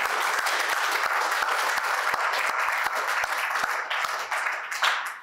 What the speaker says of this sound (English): I think we want a round of applause.